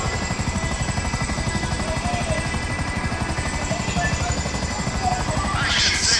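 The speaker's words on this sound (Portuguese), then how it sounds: "Vai quebrar o helicóptero, vai quebrar, vai cair." Helicopter in the GTA V video game, a loud continuous close rotor thump with engine whine throughout, and a voice talking over it near the end.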